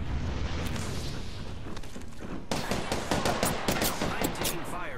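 Rapid bursts of gunfire from Apex Legends combat crackle densely throughout, growing sharper and louder about halfway in, with many closely spaced shots layered over game noise and possible voices.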